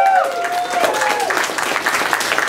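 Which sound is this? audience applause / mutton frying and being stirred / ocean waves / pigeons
audience applause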